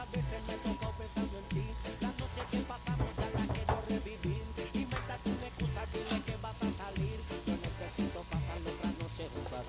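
Vegan bean taco filling with a squeeze of lime simmers and sizzles in a pan, a steady close frying hiss with soft bubbling and scattered low clicks throughout, no voices.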